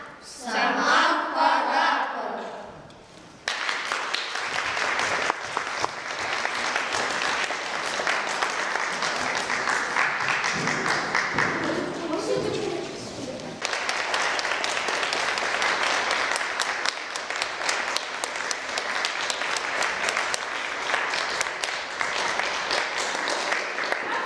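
Audience applause at a Chuvash community event: after a brief voice at the start, dense, loud clapping from a large crowd swells in and carries on steadily to the end, dipping only momentarily midway.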